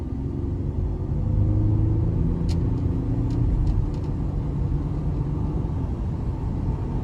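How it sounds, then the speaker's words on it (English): A 2021 GMC Canyon Denali 4WD with the 3.6 engine accelerates under throttle, a steady low rumble from inside the cab that builds slightly, with road noise and no talking. "I will give it throttle here though."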